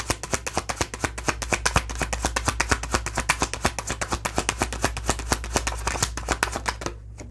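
Tarot cards are handled and laid out in a quick run of crisp flicks and slaps, dozens of close, rhythmic card snaps over a low steady hum with no talking.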